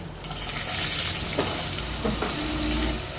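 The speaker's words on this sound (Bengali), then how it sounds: "পেঁয়াজটা আগে আমি একটু লাল করে ভেজে নেবো" Finely chopped onion frying in oil with whole cumin, clove, small cardamom and mace: a steady, close sizzle with a couple of brief stirring scrapes.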